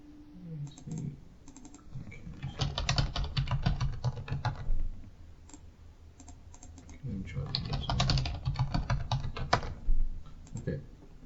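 A computer keyboard clatters as a password is typed during setup of an Azure SQL database, in two bursts of rapid, close key clicks separated by a short pause, with no talking.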